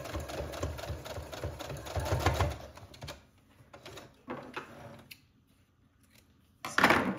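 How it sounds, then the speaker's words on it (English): A sewing machine bastes the bottom edge of a cardigan neckband, running in a short, close burst and then slowing to a few scattered stitching sounds, with a brief final whir at the end. "I'm basting the bottom edge of my neckband in place before I use my serger"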